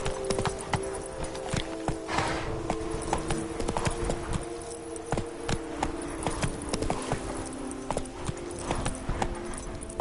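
Roach, the horse in the video game The Witcher 3: Blood and Wine, gallops with rapid, steady hoofbeats that clop continuously throughout, a close and rhythmic sound over a faint background game ambience.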